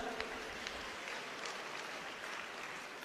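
Audience at a Punjab teachers' award ceremony clapping steadily, a soft, even patter of many hands held at a distance for a few seconds.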